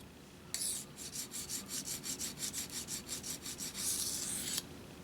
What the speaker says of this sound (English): alternating strokes on harder stones like these